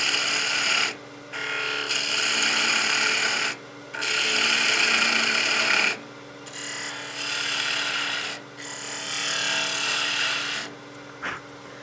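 Skew chisel shearing a spinning wooden blank on a lathe, a steady hissing, rasping cut in four long passes, each ending with a brief pause.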